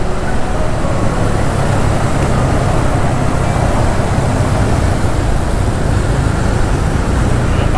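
Morning congestion on Jalan Gatot Subroto near Semanggi in Jakarta produces a dense, continuous roar of traffic, a broad steady wash of engines and road noise with no distinct breaks or voices.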